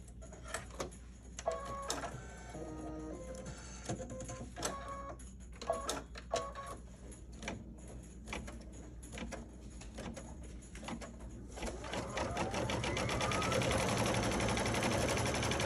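A sewing machine stitches a quilt block for a Sweet Land of Liberty pie-block pillow, giving off steady close mechanical whirring with rapid clicks and taps that grow louder and denser toward the end.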